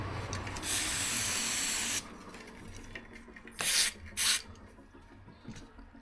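Cleaner sprayed onto the front disc brake rotor of a mountain bike: a long hissing spray burst, then two shorter sharp squirts later, close by with quiet handling noise between.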